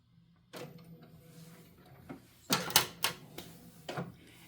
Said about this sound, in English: we'll get that printed out now